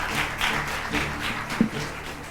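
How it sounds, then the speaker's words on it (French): A short stretch of audience applause, steady clapping from a crowd lasting a couple of seconds without any talking. "Applaudissez."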